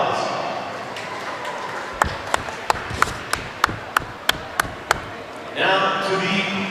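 A handful of sharp, evenly spaced claps echo around an indoor swimming venue at the medal stand after a girls' race. About ten distinct strikes come before a burst of broader noise and announcer-style talk.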